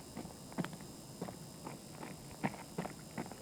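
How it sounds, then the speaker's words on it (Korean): Footsteps in the tactical shooter Escape from Tarkov: soft, irregular thuds and scuffs spaced a few tenths of a second apart, fairly quiet over a faint steady background hum, without talk. "발소리 들렸는데?"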